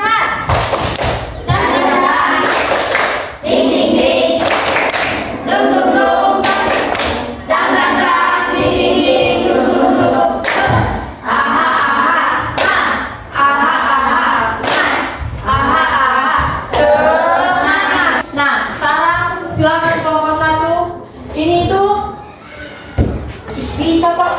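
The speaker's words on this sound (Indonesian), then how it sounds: "Tepuk semangat." In a classroom, a group of trainee teachers and students performs a rhythmic spirit clap, loud sharp claps and thumps in patterned bursts mixed with chanting voices.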